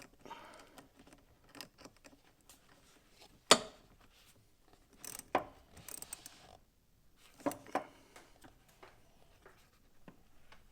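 Ratchet clicking as Air Lift Wireless One EZ Mount hardware is tightened, a few scattered bursts of short ratcheting and metallic handling at close range, with quiet gaps between.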